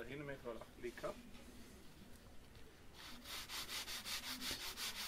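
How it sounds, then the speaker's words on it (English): Sandpaper rubbing along the wooden edge of a SLEC Sky 40 model airplane to cut a 45-degree bevel, a raspy back-and-forth scraping in quick repeated strokes, close up, with talk early on before the sanding takes over. "run the sandpaper a few times over the edge until I get a 45-degree bevel"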